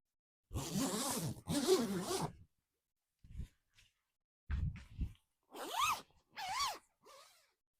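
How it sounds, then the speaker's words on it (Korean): A zipper joins sections of a canvas tunnel tent in several quick, close, rasping pulls separated by short pauses. "다시 한번 제가 지퍼를 연결을 해서 공간 분리를 해볼게요."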